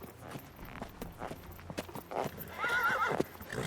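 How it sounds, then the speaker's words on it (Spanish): A horse's hooves clip-clop in quick steps, then a whinnying neigh rises near the end, moderately quiet and with no talk over it. "Apareció un hermoso caballo, regalo para él"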